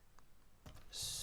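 Soft clicks of typing on a computer keyboard while writing PHP code: a few quiet, close keystrokes, then a louder burst of clatter at the end.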